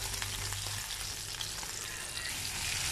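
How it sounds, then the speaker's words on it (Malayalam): Mackerel frying in a pan for a Kerala-style fish pollichathu, giving a dense, continuous sizzle and crackle heard up close and fairly quiet, with no voices. "അതുവരെ നമുക്കിതൊന്ന് ഫ്രൈ ചെയ്തെടുക്കാം"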